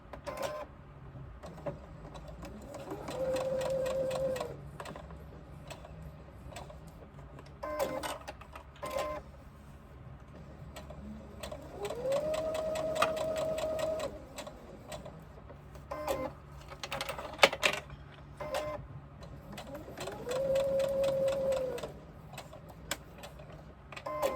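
Sewing machine stitching a box onto a crossbody bag strap, running in three separate bursts of steady whirring with a rising and falling motor tone, separated by quiet handling clicks and taps.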